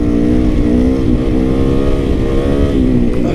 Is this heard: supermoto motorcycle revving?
yes